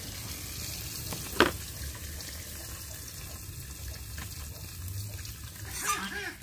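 Rohu fish pieces fry in hot oil in a village kitchen, giving a continuous moderate sizzle with occasional clinks of a utensil.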